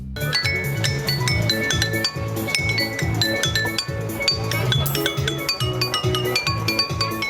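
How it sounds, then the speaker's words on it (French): Bright ringing tones struck on glasses of water play a lively, rhythmic melody, with quick repeated clinks over a steady pulsing beat. "une personne interpréter des musiques avec des verres d'eau"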